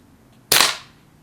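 A single sharp shot from a Winchester 1977XS air rifle fitted with a scope, a crisp close crack that fades over about half a second against a quiet background.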